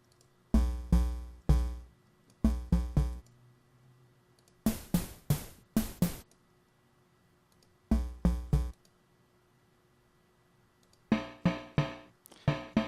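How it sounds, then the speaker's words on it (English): Flubby snare-like hits made with the paper noise type in the Massive software synth, played as repeated groups of three or four sharp, decaying strikes separated by short pauses, loud and alone with no voices. "You can make a flubby snare with the paper."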